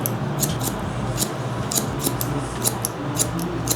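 Barber's scissors snip hair during a low taper brush-back haircut, a rapid series of close, crisp metallic snips in irregular bursts with no talking.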